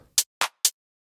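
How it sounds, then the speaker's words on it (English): Three short, crisp hi-hat ticks spaced evenly in the offbeat spots of a house beat, bright and dry with nothing else playing. "Then there's this hi-hat which plays at every offbeat."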